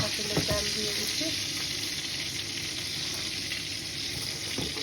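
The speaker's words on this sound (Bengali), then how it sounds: "এখন আমি এখানে একটা পাতিল বসাই দিলাম, পাতিলের তেল দিয়ে দিচ্ছি" Oil heating in a cooking pot on a home stove, giving a steady broadband sizzle and frying hiss throughout, with a few faint clinks near the start and no talk.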